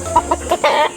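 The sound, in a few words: chicken clucking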